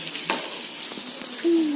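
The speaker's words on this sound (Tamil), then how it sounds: "இப்போ அடுத்தது இந்த இறா போட்டு நான் பொரிக்க போகிறேன்." Large prawns frying in hot oil give a steady low sizzle with a couple of brief utensil scrapes and a short whistling tone near the end.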